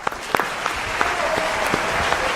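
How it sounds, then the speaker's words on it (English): An audience at a live event with a professional MC breaks into applause, a steady wash of many hands clapping with a few sharp individual claps standing out near the front. "Can we have a clap?"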